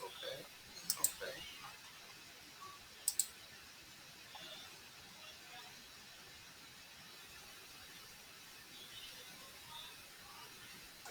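Two quick double clicks of a computer mouse on dialog buttons stand out sharply against a faint, quiet room hiss, followed by silence.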